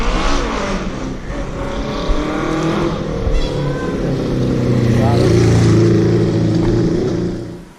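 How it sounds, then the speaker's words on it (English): A motorbike overtakes a cyclist on a canal path. Its engine sound is loud and close, and it climbs to a peak as the bike passes. Some faint voice-like sound sits under the noise. "I did get overtaken on the canal by a motorbike"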